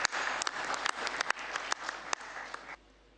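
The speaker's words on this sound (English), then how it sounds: "We can clap hands for him." An assembly audience at a football confederation general meeting claps hands, a moderate crowd applause with a few sharp individual claps standing out, running steadily before cutting off abruptly into quiet room tone.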